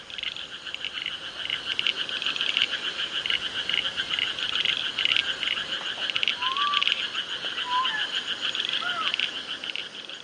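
Frogs croak in a dense, steady chorus in a New Guinea forest, with insect-like trilling and a few brief higher calls rising over the even night ambience.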